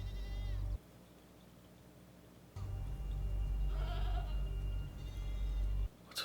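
Goats bleat in short, wavering calls at intervals, close and fairly clear over a low rumbling background, with a voice briefly speaking between them.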